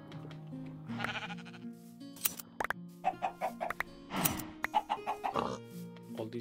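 Chickens in the Minecraft Sky Factory 3 modpack cluck in short, clipped bursts of several quick calls, close and distinct, mixed with other farm-animal noises in a quiet game world.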